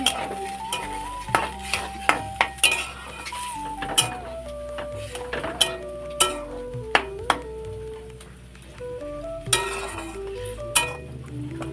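Jackfruit seeds and spices being stirred and sautéed in a pan, a soft steady sizzle under repeated sharp clinks and scrapes of a utensil against the pan, near and fairly quiet.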